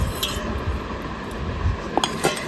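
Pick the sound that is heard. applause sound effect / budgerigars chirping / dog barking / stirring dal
stirring dal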